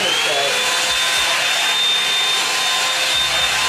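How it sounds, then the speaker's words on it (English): Hair blow dryer running continuously as a loud, steady, close whoosh with a thin high whine, with talking underneath. "So I blow dried this side."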